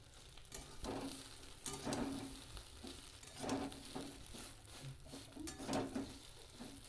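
An egg fries in a pan, pressed down with a spatula for a quick tiffin snack, giving a steady close sizzle broken by repeated scraping and pressing strokes, with no talk over it.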